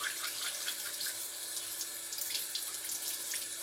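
Tap water runs steadily into a kitchen sink, a continuous hiss and splash with bright spattering texture, close and fairly loud, with no talking.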